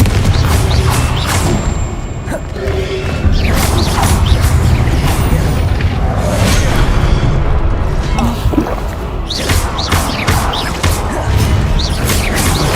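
Confringo fire spells explode in Hogwarts Legacy, with repeated booming blasts, crackling impacts and whooshes in dense, loud combat that runs throughout under game music.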